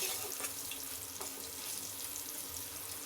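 Bitter gourd and green banana frying in hot oil, giving a steady, close sizzle that holds without a break, with a few faint clinks over it.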